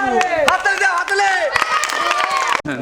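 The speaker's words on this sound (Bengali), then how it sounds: "হাততালি দাও, হাততালি।" Young children at a game prize-giving clap and shout together in a loud, close burst of scattered claps mixed with excited voices, ending with a brief drop.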